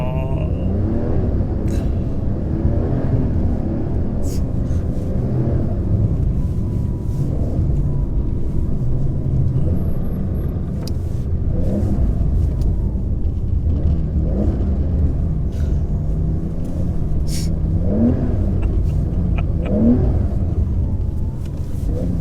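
A Porsche 993 rally car on spiked tyres slides across ice in Finland, its engine droning loud and close with repeated rises and falls in revs over a constant rumble, no talking.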